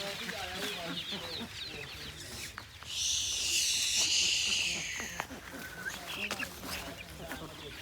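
Chicks and hens in a poultry business cheep and cluck close by. A burst of high, shrill peeping stands out in the middle, while someone talks over the birds through most of it.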